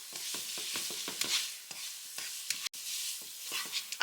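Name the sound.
stirring cooked ramen noodles in sauce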